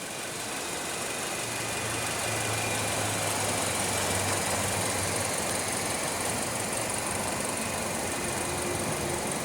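A 2016 Hyundai Elantra's 1.8-liter inline four-cylinder, rated at 145 horsepower, idles with a steady, even hum and a low droning undertone that holds unchanged throughout, with no voices.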